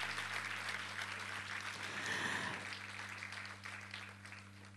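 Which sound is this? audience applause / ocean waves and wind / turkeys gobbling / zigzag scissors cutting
audience applause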